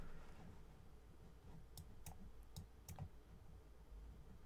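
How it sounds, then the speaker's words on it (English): A few quick keystrokes on a computer keyboard, four or five sharp clicks in a short burst, faint against a steady background hiss. "Just typing it out."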